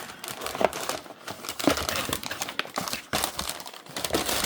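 Gift wrap packaging crinkling while a Turtle Beach Vulcan TKL keyboard is unboxed, close crackly rustling in uneven bursts with a few sharper crunches and brief pauses, no voices.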